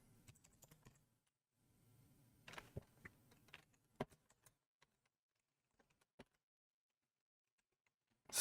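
Computer keyboard typing in bursts of quick clicks, with a dense run early on and scattered single keystrokes trailing off into quiet near the end, close and fairly faint.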